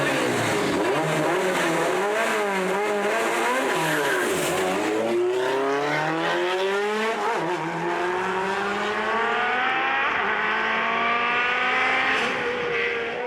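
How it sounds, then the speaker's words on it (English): A Mitsubishi Evo 7 racing up a hill climb, its engine screaming loud and close through repeated climbing revs and gear shifts, with tyres squealing and no talk. "Shane Goodside did well to make the shootout after his early problems in his Mitsubishi Evo 7"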